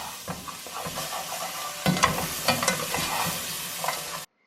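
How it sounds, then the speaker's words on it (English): Garlic is stirred with carrots and onions in a kettle for soup, with a steady close sizzle and frying hiss under scraping stir strokes that stop abruptly near the end, without any talk. "I'm going to put in my garlic, stir that around just a little bit to develop the flavors"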